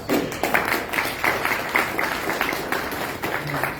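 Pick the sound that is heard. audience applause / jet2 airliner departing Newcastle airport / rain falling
audience applause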